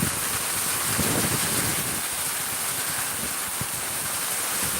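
Heavy rain falls as a loud, dense, unbroken hiss that stays steady throughout, with no voices.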